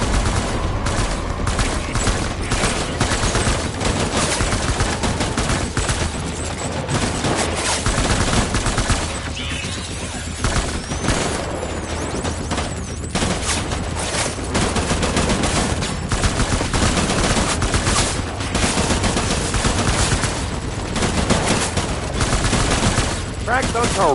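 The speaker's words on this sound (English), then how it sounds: "Taking fire. Opening fire." Rapid bursts of gunfire in the video game Death Stranding, loud and relentless, with overlapping shots and automatic volleys in a dense, continuous barrage while voices call out underneath.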